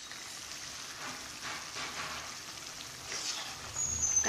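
A pot of dried-eggplant sambar simmers softly, with a steady low hiss and gentle bubbling and sizzling that stays quiet throughout.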